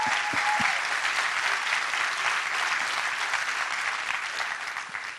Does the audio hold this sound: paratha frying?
no